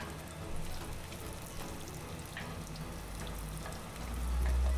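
Onion and peppers frying in oil in a wok after garlic has browned, giving a steady crackling sizzle that swells toward the end, with no talking.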